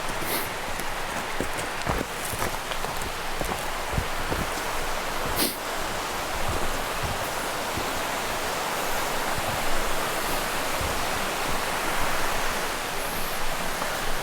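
A woodland brook flows steadily below a steep trail, giving a broad, even rushing wash with occasional crunching footsteps and leaf rustle from hikers walking nearby.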